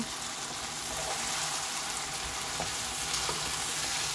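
Roast ingredients fry in a pan, a steady, fairly faint sizzle with occasional soft stirring scrapes and no voices.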